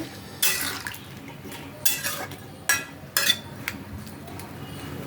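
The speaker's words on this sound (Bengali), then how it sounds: "আর দেবো জিরে গুঁড়ো এক চামচ এটা ভালো করে মিশিয়ে নেব" A spoon clinks against a pot while cumin powder is stirred into a cooking dish, several sharp metallic taps and scrapes spaced about a second apart over a quiet background.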